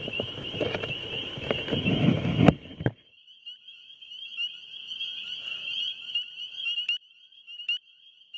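Spring peepers call from a pond in a thin, high, continuous chorus that sounds fairly distant, after a loud burst of rustling and wind noise at the start.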